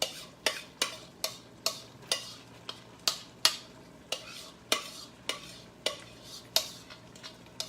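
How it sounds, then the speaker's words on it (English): Onion stirred into browned ground meat frying in a pan, with a regular series of sharp scraping strokes about twice a second over a soft sizzle. "let me go ahead and throw my onion back in the mix"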